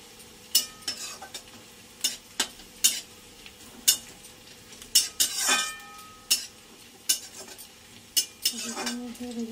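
Ginger and garlic sizzle in a pan while a utensil scrapes and clinks against the metal in repeated sharp strokes, close up over a steady frying hiss.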